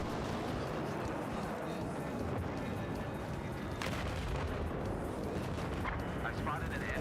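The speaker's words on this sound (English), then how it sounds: "Oh, that's some rockets." Rocket explosions boom through a chaotic Battlefield-style shooter firefight, a dense, sustained roar of blasts and gunfire with sharper bursts near the middle and end, while players talk over it.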